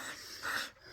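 A dog pants and snorts briefly up close, a quick breathy huff lasting under a second.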